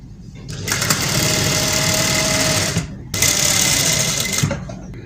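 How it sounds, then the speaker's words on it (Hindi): Sewing machine stitching a fabric patti neck design with lace, running in two loud continuous bursts separated by a brief pause near the middle. "एक सिलाई लेके जानी है बिल्कुल सेंटर से।"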